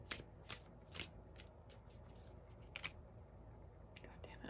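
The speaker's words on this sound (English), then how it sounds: "I'm shuffling the cards, I swear." Tarot cards being shuffled at close range, with soft rhythmic riffling bursts recurring over a few seconds in a quiet room.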